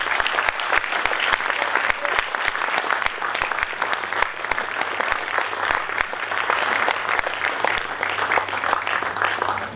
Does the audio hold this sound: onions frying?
no